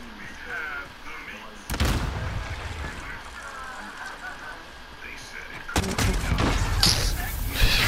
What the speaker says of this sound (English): You drop a random freaking cluster bomb.